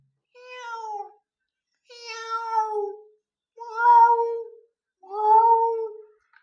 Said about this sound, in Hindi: अब आता है बिल्ली की आवाज।